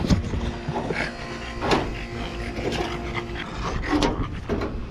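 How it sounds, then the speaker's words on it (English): A big dog panting in a garage workshop, quick rhythmic breaths close to the microphone with faint background clatter. "What are you doing over here, dog?"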